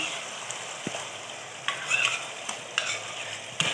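Beaten sour curd stirred into a fried spice mixture in a pan, a quiet continuous sizzle broken by several sharp spoon scrapes and taps against the vessel, heard close with no voices.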